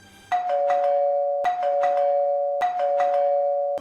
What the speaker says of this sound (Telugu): ఆగకుండా కాలింగ్ బెల్ మోగుతోంది